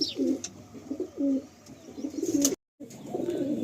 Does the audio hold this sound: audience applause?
no